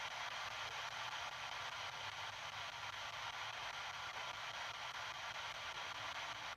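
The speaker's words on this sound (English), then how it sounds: "As the spirit box scans through the frequencies, it sounds like this." An SB7 spirit box sweeps through radio frequencies, producing a continuous wash of hissing white-noise static. It holds at a steady level, with faint flickers of stepping between stations and no voices.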